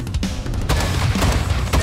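Rapid explosive bursts from a grenade launcher in Call of Duty DMZ, a dense run of booming, crackling blasts that overlap close and loud, with sharper impacts near the start and end.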